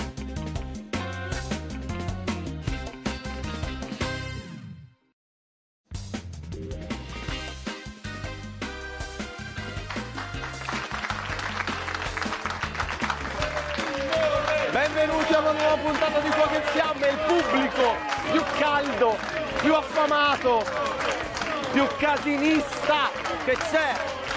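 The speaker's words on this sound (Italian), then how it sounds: "L'applauso prosegue per la mia splendida giuria, elegantissima." A studio audience on a TV cooking show applauds in a long stretch of clapping that builds and stays dense, with a brief silent gap early on and music and voices mixed in.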